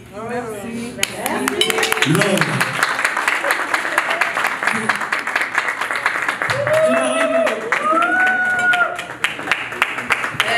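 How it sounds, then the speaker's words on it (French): Guests at a dinner party break into applause, a dense wash of clapping sustained for about ten seconds, with voices, cheering and talk mixed in throughout. "On les applaudit, on vous remercie pour ce beau mot."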